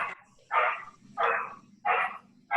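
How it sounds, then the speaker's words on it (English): A dog barks four times in an even rhythm, each bark short and fairly loud against a quiet indoor background, with no voices. "I think the dog is participating too."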